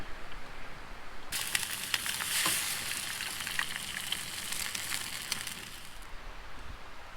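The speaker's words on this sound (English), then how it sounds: "Keeping the flame nice and low so I don't get a lot of bacon splatter" Bacon frying on a camp stove over a low flame, a soft steady sizzle with faint crackles that starts abruptly and continues evenly, close and alone with no voices.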